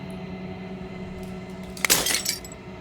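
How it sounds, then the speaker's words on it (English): Glass shatters in a video game, a sudden bright crash of breaking shards lasting about half a second over a steady low ambient hum, with a few faint clinks trailing after. "As the final fragment of glass shatters"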